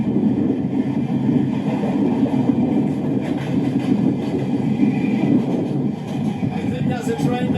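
A train moves along a railway in India, giving off a continuous heavy rumble and a clattering hum that holds steady for several seconds, loud and close, with voices faintly under it.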